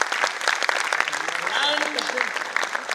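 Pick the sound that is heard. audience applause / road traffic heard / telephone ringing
audience applause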